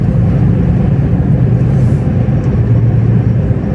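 Truck cab rolling along a Norwegian road toward Oslo behind another truck, with a loud, steady, deep engine and road rumble throughout.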